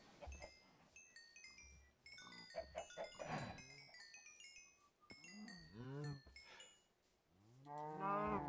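Cows mooing in the Minecraft Sky Factory 2 video game, several drawn-out moos overlapping among a scatter of sharp game clicks and pings, fairly loud and close.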